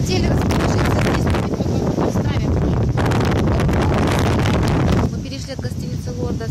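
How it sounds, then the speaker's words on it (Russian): Strong wind buffets the microphone on a beach at Dekelia, Cyprus, a loud, steady roar with waves mixed in that eases slightly near the end; people talk over it. "Сегодня ветреная погода, волны."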